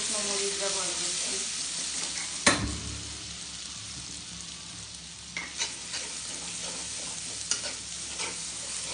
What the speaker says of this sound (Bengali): তেলের সাথে মশলাটা ভালো করে কষিয়ে নিব।